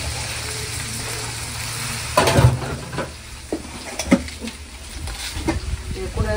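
Tomatoes fry with browned sautéed onions in a pan for a fish curry, a loud steady sizzle with bursts of stirring and scraping nearby.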